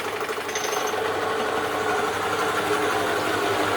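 A warmed-up engine in an oil endurance test with Global Petro America lubricant runs steadily under its first load, a dense continuous mechanical drone with rattling vibration holding an even level throughout.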